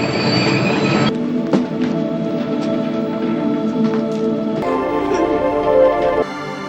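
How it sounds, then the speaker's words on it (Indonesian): A train rolls through a station with loud, sustained metallic wheel squeals and screeching tones over a rumbling background. "Sesampainya mereka di stasiun kereta"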